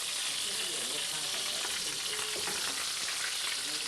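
Chicken pieces fry in a pan with a dense, continuous sizzle and crackle, close and steady, with some stirring and spitting textures mixed in.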